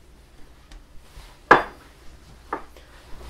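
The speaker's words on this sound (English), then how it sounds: "I'm going to throw everything except the avocados in the bowl here" Guacamole ingredients other than the avocados tossed into a bowl, one sharp clattering drop followed by a smaller second knock and faint taps in an otherwise quiet kitchen.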